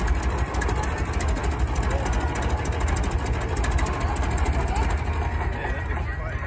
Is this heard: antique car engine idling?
yes